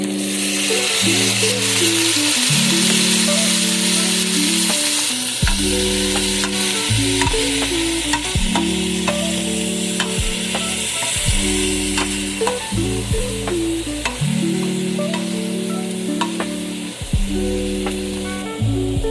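Leek sizzles in a soup pot with potato and is stirred in short bursts. Steady frying hiss runs under prominent background music.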